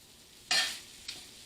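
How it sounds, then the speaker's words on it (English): A metal utensil scrapes once across a cast iron pot while making corned beef hash, a sharp close swipe over low sizzling, followed by a softer second scrape. "this is a cast iron pot, so it's alright if I scrape it with the metal"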